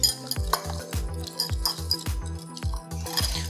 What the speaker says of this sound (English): we're going to temper these eggs by putting a little of this hot liquid in here and stirring to keep these eggs from scrambling